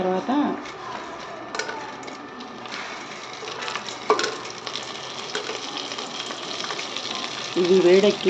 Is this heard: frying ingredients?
yes